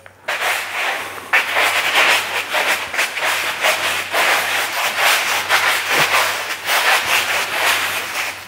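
Fine sand is rubbed back and forth across Lifeproof vinyl plank flooring, producing a close, continuous gritty scraping and hissing that keeps up steadily without a break.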